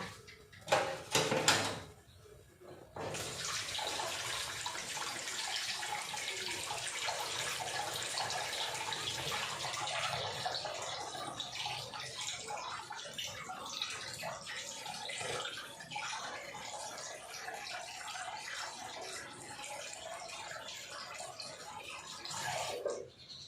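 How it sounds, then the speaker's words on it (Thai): Clean water runs from a water filter tap into a cooking pot, a steady rushing stream lasting about twenty seconds after a few quick knocks and clunks at the start. "เปิดจากเครื่องกรองเลย เอาใส่ไปเลยค่ะอีกหนึ่งเท่านะคะ"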